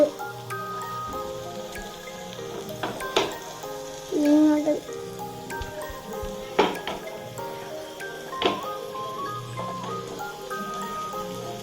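Oil sizzles and crackles steadily in a pan while chicken cooks, with occasional louder spatters and utensil knocks close by.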